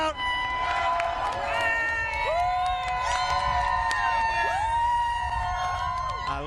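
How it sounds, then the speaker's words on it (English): A race crowd at Indianapolis Motor Speedway cheering and whooping continuously, with rising and falling shouts under a commentator talking over the noise. "Listen to that crowd."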